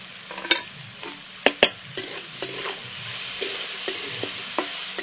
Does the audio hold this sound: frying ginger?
yes